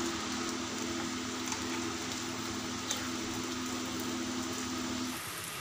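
Egg fritters (ডিমের বড়া) frying in hot oil in a kadai, a steady hiss and crackle of sizzling lasting throughout, fairly even with a few small pops, no talking.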